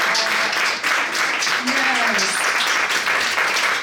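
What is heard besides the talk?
audience applause for survivors at an event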